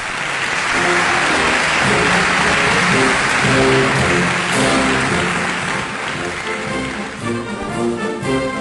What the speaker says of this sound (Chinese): 我们用热情的掌声欢迎老艺术家上场